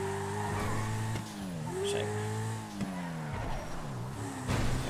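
A car cruises along a freeway in GTA 5, its engine note rising and falling through gear shifts, with a brief tire squeal and revving swells, close and continuous.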